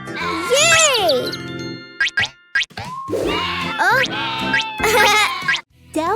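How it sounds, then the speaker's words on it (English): A cartoon orange sheep bleats in a wavering, sing-song tone within a cheerful children's farm-animal song, with bright music and chiming, tinkling accents around it. "Orange sheep."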